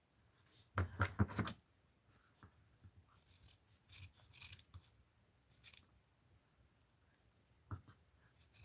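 Scissors trim small pieces of craft paper up close, with a loud burst of rapid snips early on and then quieter scattered cuts and paper rustles.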